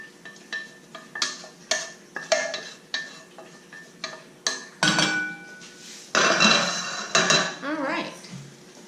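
Metal utensils clink and scrape against a heavy pan as cooked food is lifted out, in irregular sharp strikes with brief pauses, getting busier and louder toward the end.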